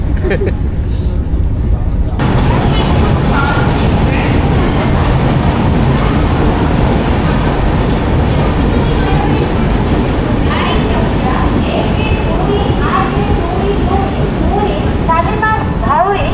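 Dhauli SF Express running from Puri toward Shalimar, a steady loud rumble and clatter of the moving train filling the whole stretch, with people chatting over it throughout.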